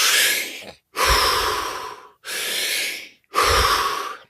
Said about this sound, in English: You have to do these deep breaths.